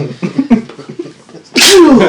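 A single loud, sharp sneeze bursts out close by right after a stretch of quiet, murmured talk.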